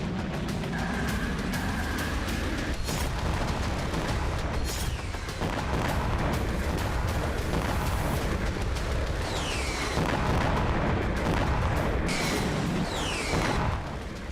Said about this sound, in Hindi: लेबनान में हिजबुल्लाह के खिलाफ इजराइल ने भीषण बमबारी शुरू कर दी